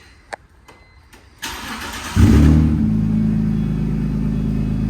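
A BMW 325Ci E46 with a newly installed Y pipe and exhaust tip cranks briefly, fires up loudly, then settles into a steady, close idle after a few faint clicks.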